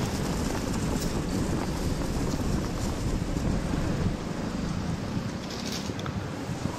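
Wind rushes past during a fast car ride, a loud continuous roar of buffeting air close to the microphone that holds steady throughout, with no voices.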